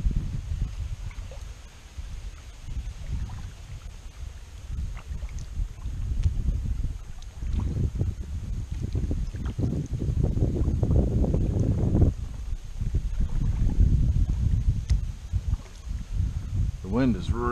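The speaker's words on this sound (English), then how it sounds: "The wind is really just pushing us back in this corner." Steady wind buffeting a kayak on Prettyboy Reservoir on a breezy day, a continuous low rumble of gusts and microphone wind noise with faint water sounds, no talk.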